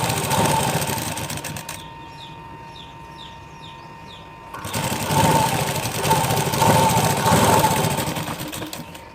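A sewing machine stitches a shoulder seam in two close, loud bursts of rapid whirring, separated by a pause in which birds chirp faintly in the background.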